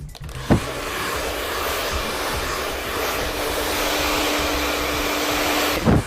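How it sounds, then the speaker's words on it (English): A hair dryer blows steadily and loudly as hair is lifted with a round brush during a volume blow-dry, with a continuous airflow whoosh and a couple of brief knocks near the start and end. "I'm actually rolling the brush up through the hair and actually applying heat"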